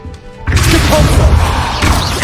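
A Repulso spell goes off in Hogwarts Legacy, a sudden loud crashing burst of impact and whoosh that starts abruptly after a quiet moment and roars on in a dense, sustained wash.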